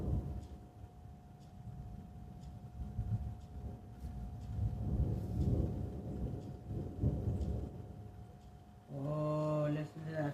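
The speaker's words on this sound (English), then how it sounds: "Oh, listen to that thunder." Thunder rumbling through a thunderstorm, a long low roll that swells and fades with rain in the background, followed by a brief tonal sound at the end.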